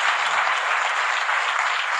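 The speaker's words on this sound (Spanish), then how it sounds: "Dele un aplauso a Jesús, por favor" A church congregation applauds, with dense, steady clapping and no other sound throughout.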